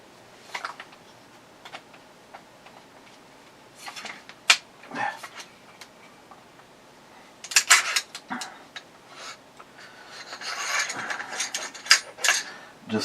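An AR rifle upper being taken apart and its bolt carrier removed: a string of sharp metallic clicks, snaps and sliding rattles at close range, sparse at first and then busier toward the end.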